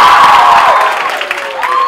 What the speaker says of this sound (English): you have to give him a big round of applause.